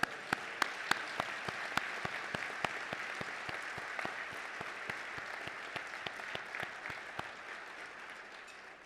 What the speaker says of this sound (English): Now we can give them all a big applause.